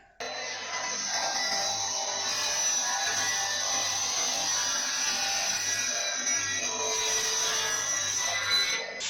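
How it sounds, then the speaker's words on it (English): A saw rips a 2x4 lengthwise into 2x2 stock: a continuous, fairly loud motor whine with steady cutting noise runs nearly the whole time, with no talk over it. "I'm going to rip it up the middle to 2x2"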